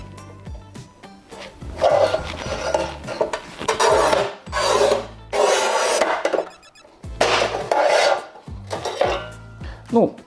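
A Montolit Masterpiuma P5 manual tile cutter works a 60 by 60 tile, giving repeated gritty scraping strokes in bursts separated by short pauses and faint clicks of the tool.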